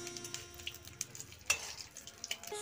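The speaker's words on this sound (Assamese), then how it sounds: "তাৰপিছত দিছোঁ শুকান জলকীয়া দিছোঁ।" Dried red chillies sizzling in hot oil for an Assamese tadka, a soft crackling fry with light stirring clicks and a sharp utensil tap midway, quiet and close.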